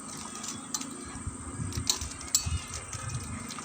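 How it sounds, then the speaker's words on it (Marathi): A hand swishes ginger pieces through lime water, giving soft, intermittent sloshing and splashes at low volume. "चुना हा तळाशी साचतो म्हणून मी मध्येच हाताने हा मिक्स करून घेते"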